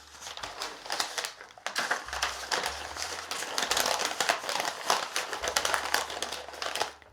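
Butcher paper crinkles and crackles as it is folded around a bouquet of roses, a close, continuous rustling with brief pauses between handfuls.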